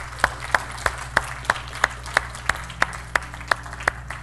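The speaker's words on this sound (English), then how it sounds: "Give the Lord a hand clap this morning." Church congregation claps in unison during a Sunday morning service, sharp, evenly spaced claps about three per second, loud and near, over a low steady hum of instruments.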